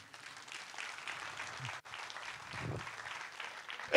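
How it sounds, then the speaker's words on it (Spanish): A church congregation claps during a sermon, a modest, somewhat distant patter of hands that dips briefly midway and resumes, with faint low murmurs under it. "¿Me podrías dar un aplauso a mí?"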